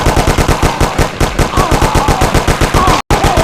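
Rapid automatic gunfire in the PS2 game Mafia, a loud unbroken stream of evenly spaced shots that stops for a split second before resuming.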